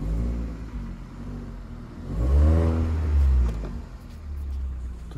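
A fully warmed-up Hyundai Solaris idles with the handbrake on, its intake manifold flap knocking, as the engine runs steadily with a brief rise in revs and a deeper hum in the middle before settling back.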